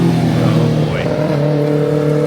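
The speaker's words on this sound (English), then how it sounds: "Oh, it's a motorcycle." A motorcycle passes along Tackawanna Street in Kensington, its engine note rising and sliding as it goes by amid constant street noise, with a sustained low drone underneath.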